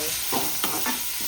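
Chopped tomato dropped into chicken liver browning in a hot pan, giving loud sizzling with a few sharp bursts of stirring and crackle, close and alone with no voices.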